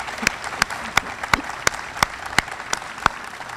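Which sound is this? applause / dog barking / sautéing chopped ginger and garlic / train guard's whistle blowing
applause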